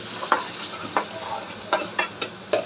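Spice masala sautéed in a pan, with a steady low sizzle broken by repeated sharp scrapes and clinks of a spatula stirring, about six strokes in quick irregular rhythm, close and moderately loud.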